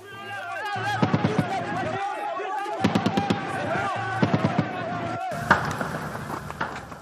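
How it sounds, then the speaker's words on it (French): Automatic weapons firing in the streets of Bakongo during unrest in the Central African Republic, short rapid bursts of sharp cracks repeating several times across the scene, heard against a murmuring crowd and voices. "Des rafales d'armes automatiques continuent de retentir à Bakongo."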